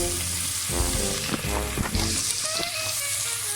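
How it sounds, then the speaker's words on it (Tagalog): Garlic sautéing in a pan for a simple vegetable soup, a loud close sizzle and crackle filling the moment, with stirring movements and brief clanks against the pan. "dito naman sa kabilang, sa kabila, magigisa naman tayo ng bawang"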